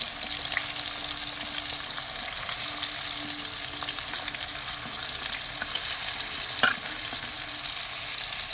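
Onions frying in hot oil for a fish curry, a close, even crackling sizzle that runs throughout, with a single sharp clink near the end and no talk.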